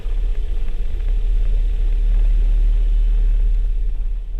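A car climbs the road up into Cotopaxi National Park on the slopes of the volcano, giving a steady, loud low rumble of engine and road noise throughout with no voices.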